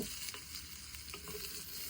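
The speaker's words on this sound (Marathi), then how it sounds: "आता याच्यामध्ये लगेच चिरलेला कांदा घालायचा आता हे कांदा चांगला परतून घ्यायचा" Chopped onion pieces sizzle and crackle in a hot clay pan, a steady frying hiss with occasional scraping stirs.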